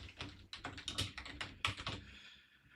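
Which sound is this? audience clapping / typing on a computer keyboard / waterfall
typing on a computer keyboard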